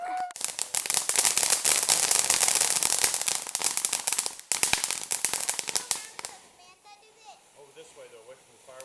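Firecrackers and fireworks go off in a rapid, dense barrage of sharp loud cracks and pops for several seconds, then stop, leaving fainter background voices.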